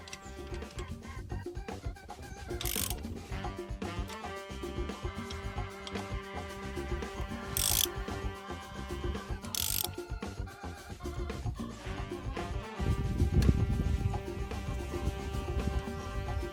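A tool tightened on a Peugeot 407 front shock absorber: steady ratcheting clicks with a few sharper metallic bursts over a humming background, close and moderately loud.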